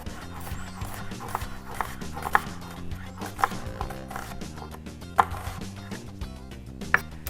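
Steady knife thinly slicing red onion on a board, a run of quick close taps with a few sharper knocks, over a low hum of background music.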